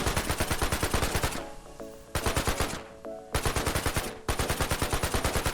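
Video game guns fire in rapid automatic bursts to smash breakable boxes, loud and close: three long strings of shots separated by brief pauses.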